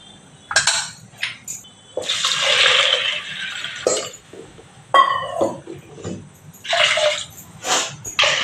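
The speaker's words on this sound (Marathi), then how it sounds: "पाणी थोडं जास्त घालणार आहे" Water poured into washed dal in a cooking pot with turmeric and oil, for puran poli, comes in several splashing, gurgling bursts separated by short pauses, close and fairly loud.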